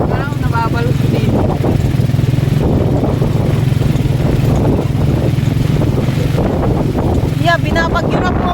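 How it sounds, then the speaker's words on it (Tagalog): Strong wind roars steadily across the microphone with a deep, rumbling buffet at a barangay fiesta in Camarines Norte, while voices talk intermittently over the blustery noise. "grabe, nalakas yung hangin"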